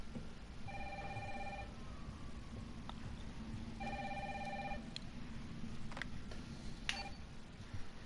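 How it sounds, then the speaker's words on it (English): An in-game telephone in Resident Evil 3 rings twice, each ring a trilling burst of about a second separated by a pause, quiet over a low background hum with a few faint clicks. "Yeah, fucking phone."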